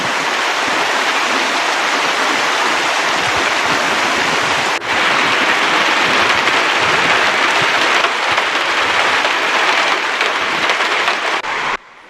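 Hail and torrents of water rush through the streets of Fügen in Austria's Zillertal during a heavy hailstorm, a loud, continuous roaring wash with steady pattering texture and no voices, lasting about twelve seconds.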